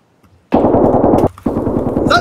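An AK rifle in a video game fires two loud, close, rapid full-auto bursts separated by a brief pause.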